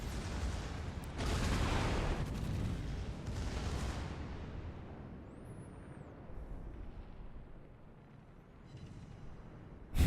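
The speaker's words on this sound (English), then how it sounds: "Now you can see the secondaries start to fire up and get a few hits here." Warship secondary guns in a naval video game fire and land hits, heard as two long rumbling booming bursts followed by a low fading rumble and a sharp thump at the end.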